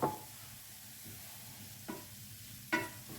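A splash of water hits a scorching baking dish straight from the oven, holding aubergine with balsamic vinegar, onion, garlic and tomatoes, and sets off a close sizzling hiss with three sharp hissing bursts over a steady background.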